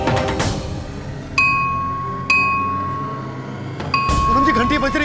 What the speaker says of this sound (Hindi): घंटी बज रही है, आपको सुनाई दे रही